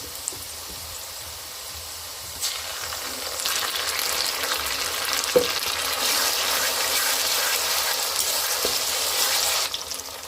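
Ginger and garlic paste hitting fried onions in a pan for mutton curry, setting off a steady, loud sizzle that swells and lingers, with a few sharp clicks of a spoon or pan edge.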